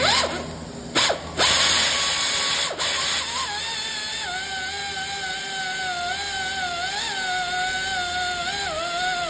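A pneumatic air tool gently snugging bolts during spark plug coil work on a 2022 Honda Accord 2.0 turbo engine, giving a few short bursts early on and then a steady whine with a wavering tone, close and loud, with no talk.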